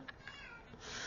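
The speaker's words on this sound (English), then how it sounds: "I hear a kitty out there." A cat meows outdoors, a few faint short calls heard at a distance over quiet background hiss.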